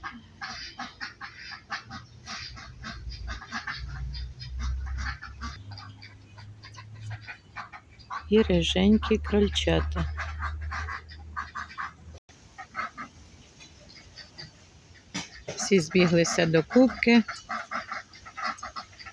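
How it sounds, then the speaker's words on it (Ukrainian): Ducks quack and gabble in two lively bursts, fairly close, with a person talking between and around the calls. "Всі качата, да, бо так як качки гелготять"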